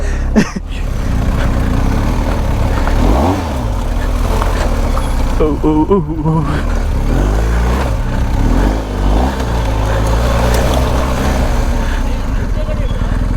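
A BMW GS motorcycle engine drones steadily during a ride, with people talking over it.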